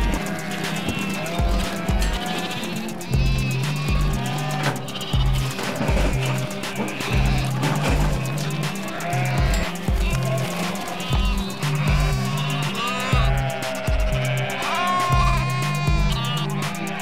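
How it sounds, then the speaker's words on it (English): Many sheep bleat repeatedly, near and far, while being marked and sorted for spring shearing, over a steady low drone, with overlapping calls throughout. "Nearby, they come across sheep being marked and sorted for the spring shearing."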